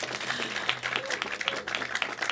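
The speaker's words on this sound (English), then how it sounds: "So give them a big round of applause." Audience applause at a Ward 7 library reopening ceremony, a steady patter of many hands clapping at moderate distance, continuous for the whole stretch without talk over it.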